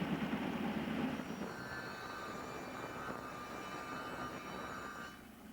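Loud, steady whine of a power saw cutting a small chunk off a workpiece in a home tool shed, a dense continuous roar that holds for about five seconds, then eases off near the end.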